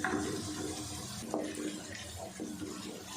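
Water from a jug pours into a pan of frying tomato masala for kala chana, a steady, continuous rushing splash and sizzle that runs throughout at fairly close range.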